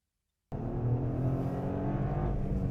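A Toyota GR Corolla hot hatch heading out onto the track at Phillip Island. Its engine starts abruptly and then holds a steady, loud drone close by.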